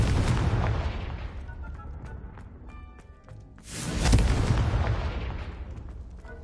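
Spell explosions in the Harry Potter game Hogwarts Legacy: a heavy booming blast with rumbling debris, a brief lull, then a second loud explosion that roars and fades out.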